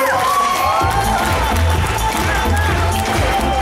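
Audience at a KVN comedy show applauding and cheering: a dense, steady roar of clapping and crowd noise filling the whole stretch, with a host's voice and music faintly layered over it.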